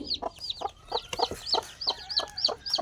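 A mother hen clucks softly and repeatedly over her seven newly hatched chicks in a village yard, the short calls coming close and steady, with faint chick peeps around them.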